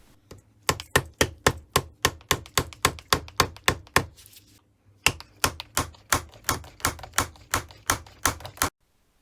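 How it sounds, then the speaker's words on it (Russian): Rubber mallet knocking the motor housing out of the gearbox housing of a Makita HM1304B demolition hammer: about thirty firm, evenly spaced thuds in two quick runs separated by a short pause, close and clear. "С помощью резинового молотка извлекаем корпус двигателя из корпуса редуктора."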